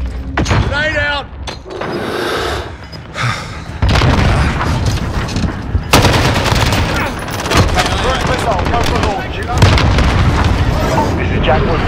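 Heavy booms and bursts of gunfire in a Call of Duty Modern Warfare battle, with a grenade explosion among repeated loud blasts and crackling shots, while voices shout over the continuous combat din.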